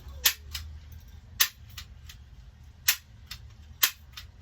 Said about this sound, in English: We got staples for a staple gun